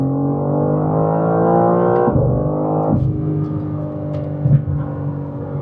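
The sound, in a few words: BMW M4 CSL accelerating hard from launch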